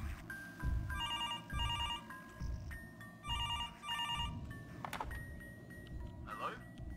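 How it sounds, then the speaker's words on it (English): A telephone rings in repeated electronic bursts at a steady rhythm in a room, with people talking over and between the rings. "Why is the phone ringing?"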